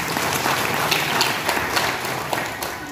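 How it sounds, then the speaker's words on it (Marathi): A crowd at a Diwali morning cultural programme bursts into loud, sustained applause, a dense wash of many hands clapping with occasional sharper claps standing out. "त्यांच्यासाठी एकदा जोरदार टाळ्या."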